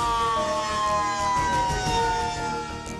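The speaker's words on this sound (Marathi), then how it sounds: "मुंबईत एकाच वेळी 60 ठिकाणी सायरन टेस्टिंग." A civil defence emergency siren test rings out in Mumbai, part of simultaneous testing at 60 locations: a sustained, slightly drifting wail holds steadily for several seconds over busy background noise.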